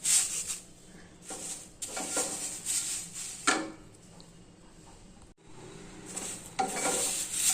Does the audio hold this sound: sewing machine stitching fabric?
no